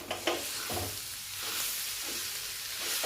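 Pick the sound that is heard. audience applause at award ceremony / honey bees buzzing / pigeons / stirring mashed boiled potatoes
stirring mashed boiled potatoes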